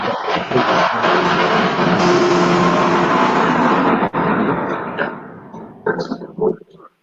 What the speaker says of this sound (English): Sorry, but the bus went by. It just kind of like rumbled everything out what you just said.